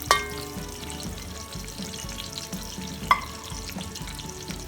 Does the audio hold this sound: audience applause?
no